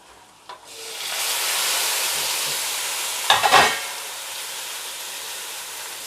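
Chopped tomatoes drop into a hot pan of soybean curry and set off a loud, steady sizzle and hiss. About halfway through, a brief stirring scrape makes it flare, then it settles back to frying.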